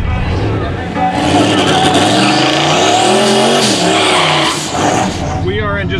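A Foxbody Mustang does a loud burnout at a dragstrip, its engine roaring steadily with screeching tire squeal and rising and falling revs. Voices talk over it throughout.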